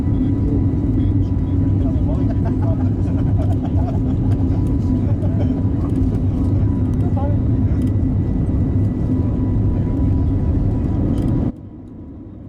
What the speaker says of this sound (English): the pilot has rotated the plane and we're up in the air